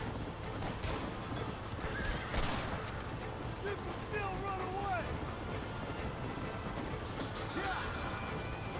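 A horse neighs and whinnies in Red Dead Redemption while hooves clatter, loud and close amid busy game noise, with someone talking over it.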